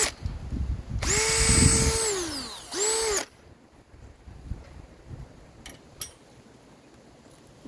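A Baur 20 volt cordless drill bores into wood. It gives a loud, close, rising whine for about two seconds, winds down, then gives a shorter second burst, followed by quiet background with a couple of faint clicks.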